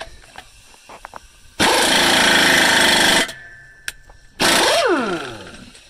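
Two loud bursts of a pneumatic impact wrench rattling while threading on a Dayton wheel, the second winding down, separated by a short pause with light handling clicks.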